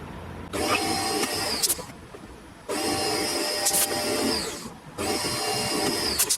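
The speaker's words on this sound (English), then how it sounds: "bought this little carbide spotting drill a while back, and I'm going to use that to ream it out to 4mm" A small carbide spotting drill reams a hole out to 4mm in a part for a model steam engine, giving three loud bursts of high, whining cutting noise separated by short quieter pauses.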